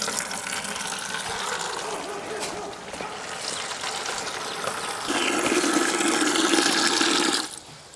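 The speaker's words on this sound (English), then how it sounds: "We use some of our fresh new water to clean this off." Water gushes steadily from a hose onto a wooden deck to rinse off sawdust, a loud continuous splashing rush that grows heavier for a few seconds before cutting off abruptly.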